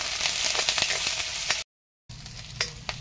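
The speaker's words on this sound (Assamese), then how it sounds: "আদা নহৰুখিনি ৰঙচুৱাকৈ ভাজি" Crushed ginger, garlic and green chilli sizzle in hot oil in a kadai, a steady close frying hiss with small crackles, broken by a brief silent cut before the sizzling resumes.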